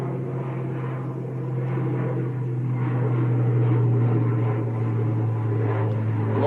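A Loganair ATR turboprop at Manchester Airport hums steadily with a strong low drone, the engine tone swelling slightly louder and nearer over several seconds with no voices.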